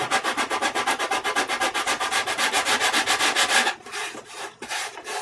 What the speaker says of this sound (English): That's really all you do is sand it down like that